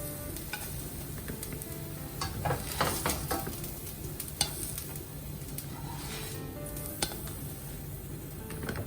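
Bread idli frying in a pan on medium flame, a steady soft sizzle with scattered stirring scrapes and occasional clinks, close and continuous with no talk.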